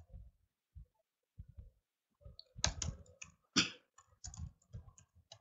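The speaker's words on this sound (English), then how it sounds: "So let me just type in everything here." Typing on a computer keyboard, sparse clicks at first, then a denser run of sharp keystrokes with a few louder taps, close and quiet with no talk.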